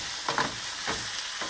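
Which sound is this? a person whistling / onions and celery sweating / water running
onions and celery sweating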